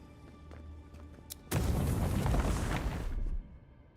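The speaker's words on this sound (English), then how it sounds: "Explodey wall." A wall blowing apart in the video game Avowed, a sudden loud blast with a dense roaring, crumbling rumble that holds for about two seconds before cutting off, preceded by quieter game ambience.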